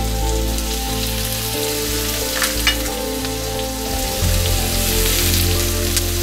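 Sliced onions and green chilies sizzling in hot oil in a pan, a loud, steady crackling fry that carries on unbroken, with a brief shift partway through as the pan is stirred.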